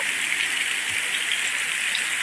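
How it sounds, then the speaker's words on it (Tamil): Heavy rain pours down steadily in Jaffna, a dense, continuous hiss of drops on surfaces, loud and unbroken with no voices. "மழையை பாருங்கள் அடுக்கி பெய்யுது"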